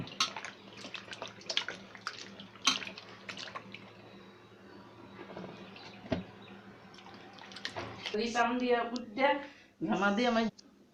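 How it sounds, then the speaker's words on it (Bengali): Stinging catfish (shing fish) being washed and rubbed in water, with steady splashing and sloshing close by; a voice speaks over the water toward the end. "আমার শিঙি মাছগুলি আমি পরিষ্কার করে ধুয়ে নিয়েছি।"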